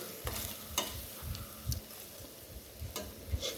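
Chicken intestines sizzle in a pan, a soft steady frying hiss broken by several sharp clinks and scrapes of stirring, quiet and close.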